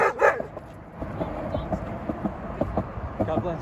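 A dog barks outdoors on a New York City evening, a couple of sharp yips near the start followed by faint intermittent barks under steady street noise and crowd murmur, with people talking nearby.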